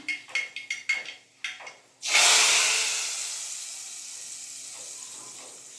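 Whole spices for a dal sambar tempering crackle and pop in short bursts, then a loud, sudden sizzle erupts as they hit the pot and slowly fades into a steady hiss.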